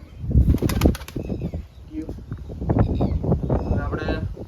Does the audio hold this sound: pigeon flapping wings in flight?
yes